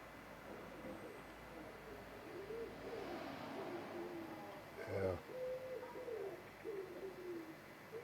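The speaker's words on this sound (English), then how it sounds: "There's a pigeon in the background here yelling." A pigeon coos outside a window overlooking Edinburgh, a soft, faint, wavering series of low calls repeating through the clip with quiet background noise.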